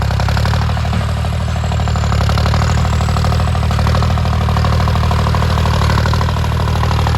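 A John Deere 5050D tractor clearing forest for a new rice field, its diesel engine running loud, close and steady with an even low throbbing pulse and no break, with no speech.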